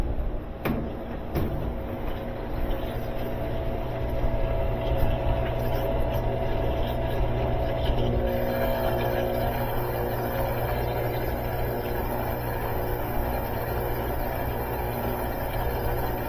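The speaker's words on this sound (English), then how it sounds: "So it's on the spin cycle now, no problems." A salvaged washing machine runs its spin cycle, a steady low mechanical hum and rumble that holds throughout with a few faint knocks early on, moderately quiet and close.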